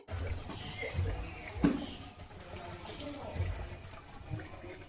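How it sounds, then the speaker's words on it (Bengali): Water runs steadily from a timed outdoor tap, a soft continuous splashing at moderate distance with occasional small splatters. "বাইরের জল পড়ছে টাইম কল দিয়ে"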